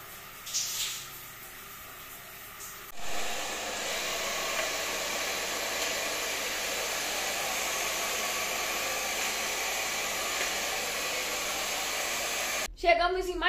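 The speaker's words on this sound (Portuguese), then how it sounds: "Secador de cabelo!" A hair dryer starts up with a click and then blows a loud, steady whooshing roar close by for about ten seconds before switching off abruptly, with brief rustling at the start.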